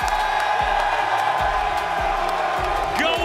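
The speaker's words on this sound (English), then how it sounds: "can we make some noise for Ghosty, everybody?" Tournament crowd at a Call of Duty League Major III championship cheering for the winning team, a loud, sustained roar and whoops filling the arena over pounding bass-heavy music beats.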